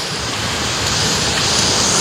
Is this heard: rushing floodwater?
yes